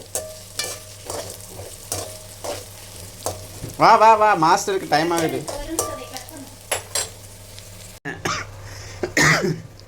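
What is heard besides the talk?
sautéing food in a pan on the stove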